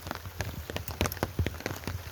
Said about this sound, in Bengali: আজকে সারাদিন ধরে বৃষ্টি হচ্ছে সকাল থেকে